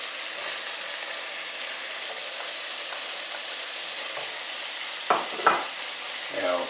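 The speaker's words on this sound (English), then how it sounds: "Give that a nice stir." Chickpea stew with carrots sizzles steadily in a pot, a constant bright frying hiss throughout, with a few louder scraping stirs near the end.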